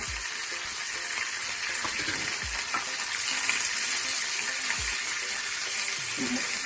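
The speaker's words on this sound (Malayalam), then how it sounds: "ഇനി നമുക്ക് ഇച്ചിരി കരിവേപ്പില നമുക്ക് ഫ്രൈ ചെയ്യാൻ കിട്ടുക" Curry leaves fry in hot oil for a tapioca biryani, a dense and steady sizzling hiss that holds at a fairly even level throughout, with a few soft low thumps underneath.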